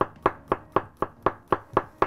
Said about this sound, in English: Five big fuck off cloves of garlic, right, that I'm gonna slice.